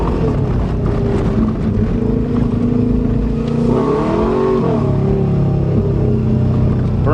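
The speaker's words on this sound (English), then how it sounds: "Burns the tires every time I hit the gas." A Subaru Legacy accelerates hard with its tires spinning, a loud, steady engine roar that swells and rises in pitch near the middle before settling, close and continuous with no voices.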